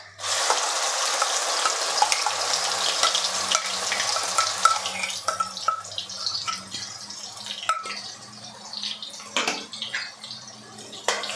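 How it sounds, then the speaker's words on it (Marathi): Ground dry-coconut paste and curry leaves sizzle loudly in hot oil, a dense crackling hiss that softens as stirring begins, with intermittent scraping clinks from the spoon against the pan. "आता यामध्येच घालायचं आहे आपण जे वाटण केलेलं आहे ते वाटण यामध्ये आपल्याला घालून घ्यायचं आहे"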